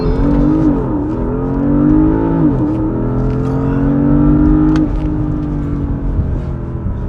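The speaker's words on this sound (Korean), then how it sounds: "네, 제로백 테스트 하겠습니다." A Porsche Panamera GTS in Sport Plus mode launches hard from a standstill using launch control, its engine revving loudly and climbing steadily through the gears, with audible shift dips and a continuous close, strong roar throughout.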